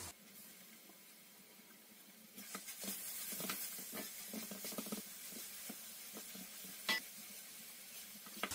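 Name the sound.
grated carrot stirred and sizzling in oil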